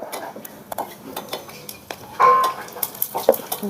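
Ground spice paste goes into a pan of curry leaves, sesame, cumin and mustard seeds on a small village stove, with a brief sizzle and clinks and scrapes of a spoon stirring against the metal pan.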